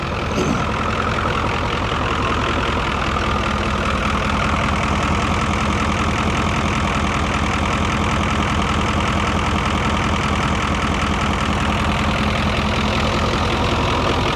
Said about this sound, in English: Engine itself sounds brilliant.